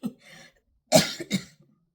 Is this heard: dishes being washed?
no